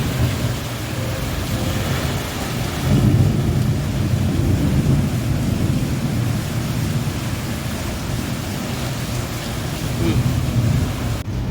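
Steady rain falls during a monsoon downpour after a spell of hot weather, a dense continuous wash of broadband noise with a low rumbling undertone, close and fairly loud throughout with no voices.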